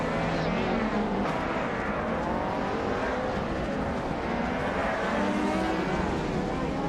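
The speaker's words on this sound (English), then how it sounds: "Isotix is driving a 1985 Lancia Delta S4" Engine of a 1985 Lancia Delta S4 rally car in a racing game, a dense, loud, unbroken roar with shifting revs, other cars blending into the din, no talking.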